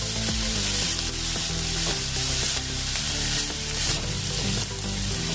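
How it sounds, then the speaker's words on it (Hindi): Onions and garlic cloves sizzle steadily in a frying pan while making a besan potato curry, a continuous hiss running through the whole stretch beneath loud, prominent background music. "प्याज को हम भूनेंगे अभी"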